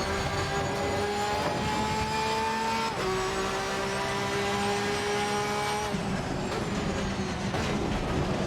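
Lamborghini GT race car in Assetto Corsa Competizione, its engine a loud steady tonal drone with harmonics climbing through each gear and dropping sharply at shifts around three and six seconds, no talk over it.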